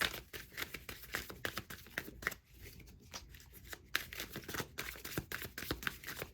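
Tarot cards are shuffled close by in rapid, riffling bursts, crisp papery flicks repeating with short pauses between rounds.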